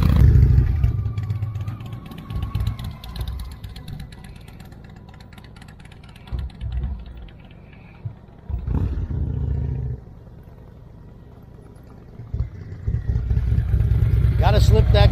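Motorcycle engine revving in bursts with the clutch slipping during slow-speed rider training on a cone course, rising and falling engine roars between quieter idle stretches, with someone talking over it.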